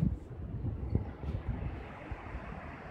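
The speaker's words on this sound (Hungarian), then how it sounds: "Itt a vízesés, itt megy alattunk a folyó." A waterfall and river rush beneath a bridge on the way to Sangalle, Peru, a steady broadband roar blended with gusty wind buffeting the microphone.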